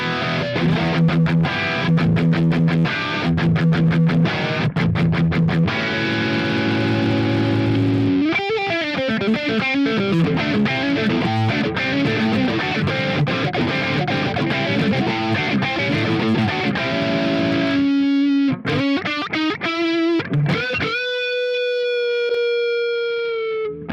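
Heavily distorted electric guitar through a plexi-style amp model with a drive pedal in BIAS FX, playing chugging riffs and sustained chords, ending on a bending, ringing note with no talk.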